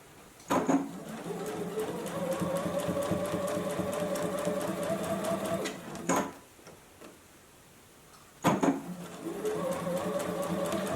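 A JUKI sewing machine stitches a face mask in two long runs of steady, rapid mechanical whirring, separated by a short pause with a few clicks, then starts up again near and clear.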